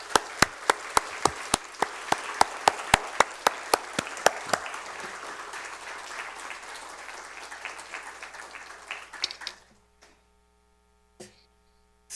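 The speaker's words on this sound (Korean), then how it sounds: "나오실 때 우리 뜨거운 박수로 환영하겠습니다." A church congregation at a Friday worship service applauding to welcome a guest preacher: a few sharp individual claps, then full applause that fades out, followed by near silence with faint hum.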